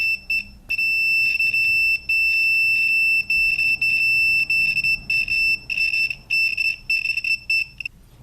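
A multimeter's continuity tester, an Extech 330, sounds a steady high-pitched electronic tone almost continuously, with brief dropouts and a stuttering pattern toward the end, close and fairly loud over a low hum.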